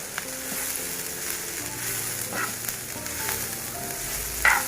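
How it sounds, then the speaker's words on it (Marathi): Whole spices roasting together in a pan for a stuffed-flour dumpling dish, a continuous low sizzle and crackle with occasional scraping stirs and a sharper clink near the end. "आता आपल्याला त्याबरोबरच हे सगळे मसाले सुद्धा त्याच्यातच भाजून घ्यायचे"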